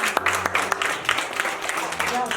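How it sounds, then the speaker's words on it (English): Schoolchildren at a school in Southern Kaduna, Nigeria, give a brief round of applause with scattered, uneven claps, while voices talk over it. "Can we give him a round of applause, everybody?"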